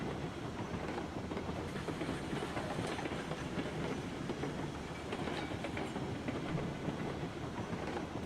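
Continuous rumble and rhythmic clickety-clack of a long freight train rolling downhill with a light brake set in RailRoads Online, steady and moderately loud throughout with no talk.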